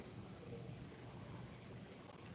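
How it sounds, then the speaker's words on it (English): Bilge pump of an oily water separator in a ship's engine room starting up in manual mode, heard as a steady, continuous broadband machinery rumble and hiss, even and unbroken throughout. "we are now going to start the bilge pump"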